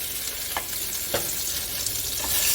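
Beef rump roast searing over medium-high heat in a pan, a steady close sizzle with a few brief scraping stirs and no voices.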